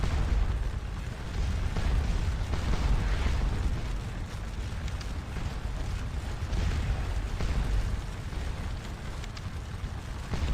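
Napoleonic artillery in a Battle of Waterloo strategy game, Scourge of War Waterloo, as a steady, rumbling wash of distant cannon booms and pops blending into a continuous battlefield roar.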